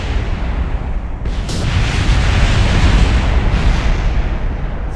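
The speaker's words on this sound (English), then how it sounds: "Enjoy the explosion." A spaceship explodes in Kerbal Space Program, a loud, dense roaring boom that rumbles on continuously for several seconds with crackling debris and no voices.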